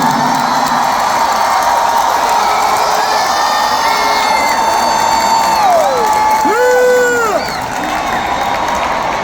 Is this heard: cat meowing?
no